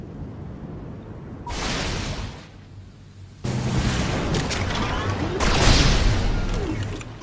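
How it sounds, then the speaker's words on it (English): Naval fighters attack a Kraken sea monster in Civilization: Beyond Earth, with two waves of roaring explosive barrages and rumbling blasts, the second longer and louder, with a synthetic voice speaking between them. "Commencing attack with naval fighters."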